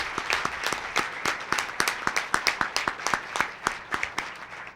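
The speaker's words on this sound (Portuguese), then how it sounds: "vamos dar uma salva de palmas para os nossos rádios amadores" A small group claps for amateur radio operators at a solemn legislative session, each clap crisp and separate in a loose, uneven rhythm that carries on throughout, fairly close and moderately loud.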